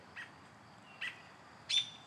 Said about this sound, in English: I've got Roby the robin chirping away over my head here.